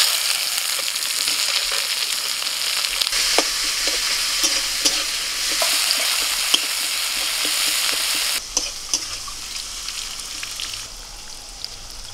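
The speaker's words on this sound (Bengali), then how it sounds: "ফোড়নটা ভাজা হয়ে গেলেই দিয়ে দিচ্ছি পেঁয়াজ কুচি।" Chopped onions sizzle and crackle in hot oil in a wok, over whole spices: bay leaves, cardamom, cinnamon, cloves and cumin. The frying is steady and close, with scraping stir strokes breaking through now and then, and there is no talk.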